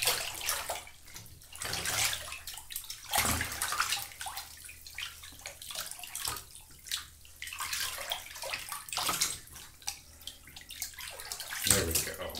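Bathwater sloshing and splashing in a filled bathtub during a bath, soft close-up swishes and pours coming in irregular waves, with quiet talk at times.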